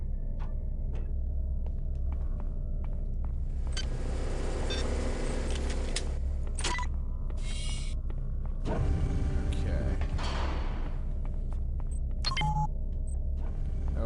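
An elevator in the video game System Shock 2 moves with a steady low mechanical rumble throughout, overlaid by intermittent creaks, hisses and beeps, with no one talking.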